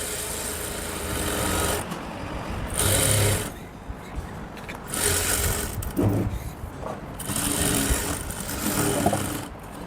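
A sewing machine stitches the neckline of a co-ord set in close, loud whirring runs separated by brief pauses, with no talking.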